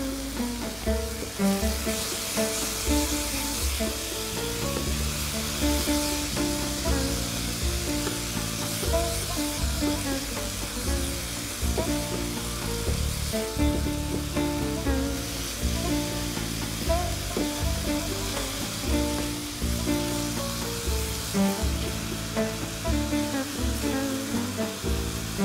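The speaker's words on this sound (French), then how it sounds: "Le plus important, c'est de cuire à feu très doux et de surveiller surtout la cuisson." Minced meat with onions, courgettes and carrots cooking on very low heat in a pan, giving a continuous soft sizzle with light stirring, mixed with a steady background music bed and no talk.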